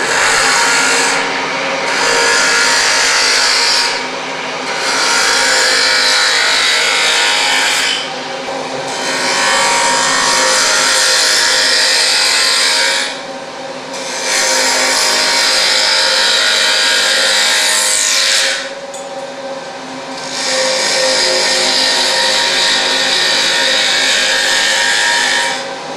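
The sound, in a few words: wood lathe roughing cut with ball gouge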